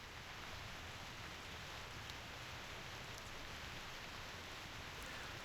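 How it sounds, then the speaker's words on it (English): Steady rain falls in the video game Reverse 1999, a soft, even hiss of drops with no breaks, quiet and continuous and heard alone. "The rain starts again."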